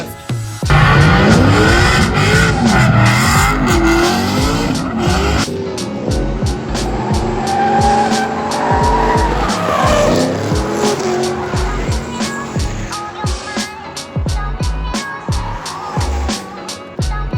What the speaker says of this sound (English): get ready for the drifting event that we did in Octoberfest